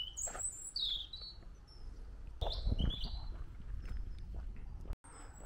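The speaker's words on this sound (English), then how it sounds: "Don't hear enough pretty bird song these days." Birdsong in a quiet park: several clear chirps and whistled phrases come in short bursts over steady outdoor background noise, fairly near and moderately loud.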